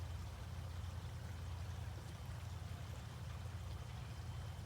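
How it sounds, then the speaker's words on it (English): Continuous flowing water, an even rushing wash like a nearby stream or falls, soft and steady throughout with nothing else on top. "Listening to the water"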